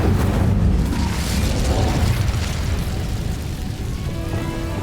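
The Incendio fire spell in Hogwarts Legacy erupts as a loud, close, rumbling roar of flame, a sustained burst that stays heavy for several seconds before easing slightly at the end.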